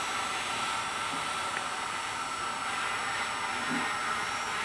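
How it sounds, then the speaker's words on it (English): A heat gun shrinks tubing onto the base of a fishing rod blank, a steady loud blowing hiss that holds unchanged throughout without talk. "Switch off the heat gun."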